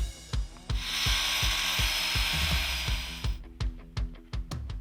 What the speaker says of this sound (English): So we gotta do some precision cutting here